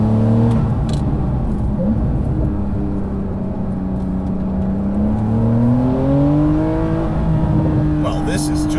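A 2020 Porsche 992 Carrera 4S drives on the Tail of the Dragon road, its engine pulling steadily through the gears with pitch climbing and dropping at shifts. The engine noise is close and loud and continues throughout.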